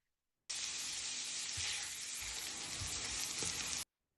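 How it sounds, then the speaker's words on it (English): Onions sizzle steadily in a hot pan for several seconds, a bright continuous frying hiss with a few soft low bumps from stirring, close and alone with no talking. "And then we're going to go in with the onions. I'm going to cook these for about 3 or 4 minutes"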